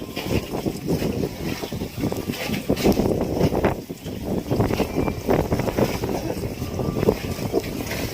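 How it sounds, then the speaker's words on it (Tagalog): Strong typhoon wind roars continuously and loudly near the sea at Surigao, buffeting the microphone with gusts throughout. "Hindi pa rin tapos yung hangin"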